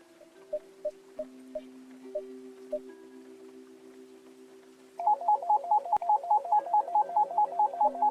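Telephone in the video game Grey Plague: a few soft tones, then a loud, fast electronic ringtone trilling in rapid repeated bursts over a steady low hum, with no talking.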